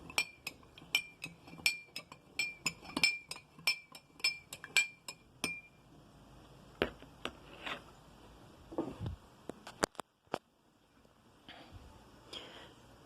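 Salt being stirred into water in a glass gives a quick run of bright clinks of a spoon against glass, followed by a few scattered taps and a final clink, close and clear, with no one talking.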